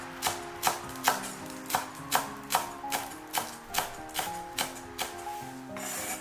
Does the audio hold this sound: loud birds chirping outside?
no